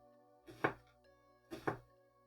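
Onions sliced with a knife on a cutting board, two quiet separate cuts each ending in a soft thunk against the board, close up and otherwise nearly silent.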